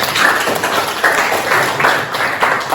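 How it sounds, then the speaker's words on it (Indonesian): A classroom of students clapping together on cue, a loud close burst of rapid, uneven claps filling the room in several pulsing waves with no voices over it. "Oke, tepuk tangan semuanya."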